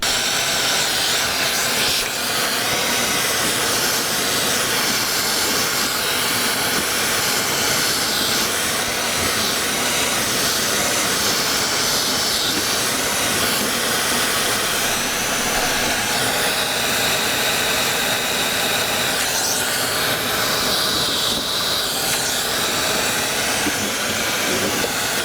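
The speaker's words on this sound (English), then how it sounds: "So I'm just going to grab the vacuum and try to suck that out." Steady, loud roaring suction noise from a vacuum cleaner cleaning dust from refrigerator coils runs unbroken throughout, close by, with a broad hissing airflow texture.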